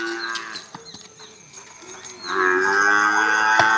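A heavy, pregnant Jafarabadi buffalo lets out a low, drawn-out moo that swells into a loud, sustained call close by.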